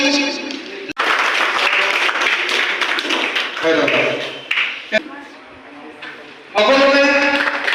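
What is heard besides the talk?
audience applause at an Assam student union conference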